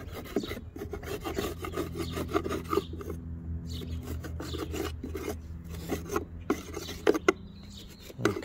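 Close, quiet scraping and rasping as debris is cleared from the corners of an EGO 56V mower deck, irregular strokes with occasional sharper knocks and scuffs, no talking.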